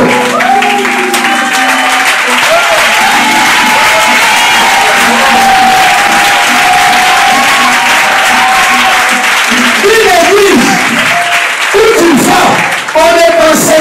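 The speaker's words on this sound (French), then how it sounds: "on acclame très fort le Seigneur" A church congregation at a Sunday service claps loudly and continuously, cheering and whooping throughout. The dense applause fills the room at close range, and voices shout over it near the end.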